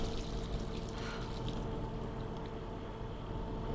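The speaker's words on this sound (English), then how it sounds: "That was a lot of water." Water pouring in the video game Life is Strange, a steady continuous splash held throughout at moderate level with a low background hum beneath, no voices.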